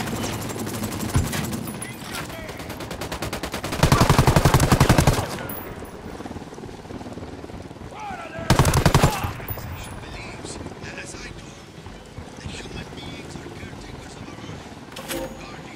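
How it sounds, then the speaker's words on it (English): Automatic gunfire breaks out in Ghost Recon Wildlands as two loud, dense bursts of rapid shots, with voices talking and game ambience around them. "Opening fire on these fuckers."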